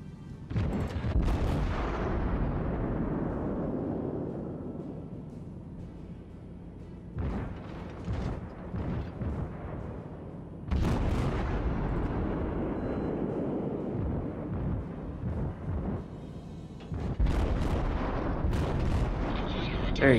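Heavy booming weapon fire from battle cruisers in a space combat video game, several deep blasts that roll and decay over seconds, separated by quieter gaps, with someone talking over the action.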